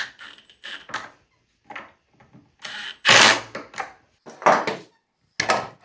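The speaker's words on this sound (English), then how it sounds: "So now I'm just gonna put the screws back in and hope for the best." Screws are driven back into a handmade wooden cross, giving a series of short mechanical creaks and ratcheting bursts separated by pauses, close and fairly loud.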